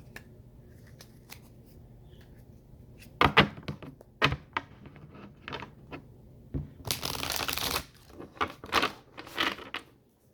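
A deck of cards being riffled and bridged, with sharp bursts of shuffling and a longer rapid flutter, close and fairly loud, no voices.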